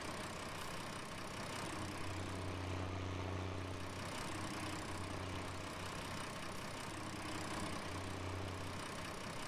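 A tractor engine in Farming Simulator 19 drones steadily while hauling a heavy loaded trailer, a low idling rumble with periodic swells in pitch and load, continuous and fairly close.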